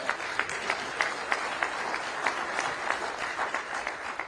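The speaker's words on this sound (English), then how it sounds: "Y'all should be clapping for that." Audience applause at a conference panel on the black vote, a steady wash of many hands clapping at moderate distance, with brief louder swells and no clear talk over it.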